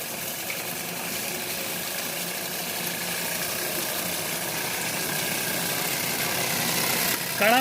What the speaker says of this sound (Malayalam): കാരണം നമ്മുടെ മെക്കാനിക്കൽ എയറേറ്റർ വർക്ക് ചെയ്യുന്നുണ്ട്